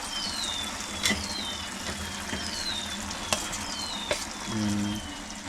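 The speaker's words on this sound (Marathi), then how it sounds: "इकडे बांगडे इकडे तिथे फ्राय होतात" Mackerel (bangda) fish fries in a pan with a steady sizzle, a few sharp clicks and taps, and a brief low hum toward the end; no talking.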